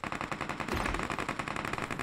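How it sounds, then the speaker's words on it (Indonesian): Rapid automatic gunfire from a Groza rifle in a mobile battle royale shooter rattles in a steady, dense burst throughout, loud and close with no pauses. "Mau nembak dia, dia nembak musuhnya."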